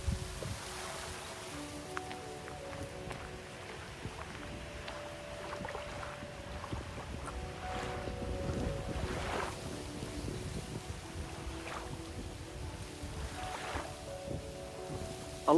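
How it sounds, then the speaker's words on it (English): Gentle water laps quietly against the shore of Windermere in the Lake District, in a soft, irregular rhythm, with light wind and faint creaking in the background. "You can just about hear the lapping of the water."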